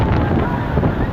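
Strong wind buffets the microphone at sea during a boat rescue off Mohéli, a steady loud roar with broad rumbling gusts and no pauses.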